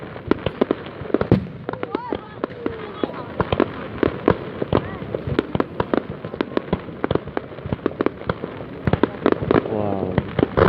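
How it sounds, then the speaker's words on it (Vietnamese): Fireworks burst on New Year's Eve in Vietnam, a dense stream of sharp cracks and booms with crackling firecrackers and whistles, while people nearby talk and exclaim. "Ấy cái pháo mà lên nó nổ"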